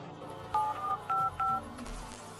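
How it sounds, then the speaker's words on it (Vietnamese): A telephone keypad dials out to the police in a series of short, clear DTMF beeps, about four or five tones in quick succession over a low background hum. "tôi đã gọi trực tiếp cho cảnh sát"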